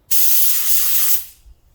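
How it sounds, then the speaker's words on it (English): Spray gun laying down matte clearcoat at 20 psi with 2.5 turns on the fluid, a loud steady airy hiss that holds for about a second before cutting off, leaving faint low rumble. "It looks like it's spraying very well"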